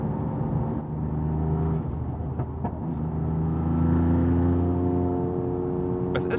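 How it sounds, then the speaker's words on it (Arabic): Exhaust of a modified Toyota GR Yaris in signal yellow, a steady close engine drone with a few sharp pops and crackles, heard alone without talk. "بس اسمع صوت الإكزوست"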